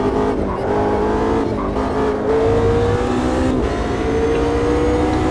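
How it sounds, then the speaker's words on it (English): Tires squeal and smoke through a burnout in the Automobilista 2 racing game, the engine revving hard under a steady, loud tire screech that holds for several seconds without talk. "Just burning up the tires."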